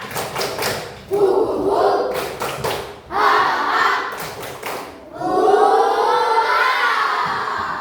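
A class of sixth-grade children claps together in rhythmic bursts during a clapping game, sharp patterns of hand claps alternating with chanting voices, lively and close.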